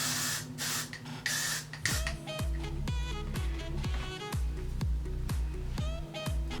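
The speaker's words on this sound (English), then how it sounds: "I will give it one final little spray to kind of lock it all in." A few short aerosol hairspray bursts hiss at the start, then rhythmic background music with a steady beat carries on.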